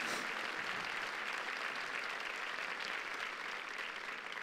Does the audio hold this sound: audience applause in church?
yes